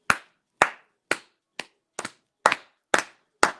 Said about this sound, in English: Can you start clapping?